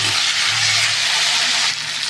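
Spices with salt, turmeric and a ginger and cumin paste fry in a pan for a Bengali pumpkin and potato curry. A loud, continuous sizzle and hiss fills the clip without a break, and no one speaks.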